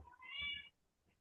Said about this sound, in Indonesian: Ada kucing nopo sinten